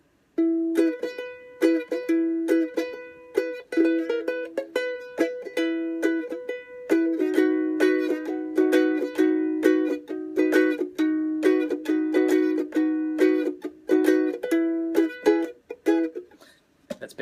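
A ukulele plays the SpongeBob SquarePants end theme, with bright plucked and strummed notes in a lively steady rhythm, heard close and clear for most of the clip, with no talking.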